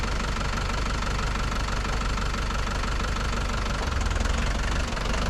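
A tractor engine runs loudly and close, with a continuous knocking, rumbling idle that swells slightly toward the end.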